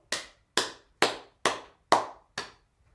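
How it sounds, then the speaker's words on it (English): Six slow, evenly spaced claps, each sharp and quickly fading, ring out alone at moderate loudness over about three seconds, greeting a winning pick on a sports betting show. "round of applause because that's going to be a nice winner"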